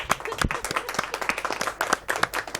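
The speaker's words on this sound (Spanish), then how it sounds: "Se puede aplaudir." Applause in a parliamentary labour committee session, a modest group clapping with individually distinct, uneven claps, close and fairly loud, with some speech mixed in.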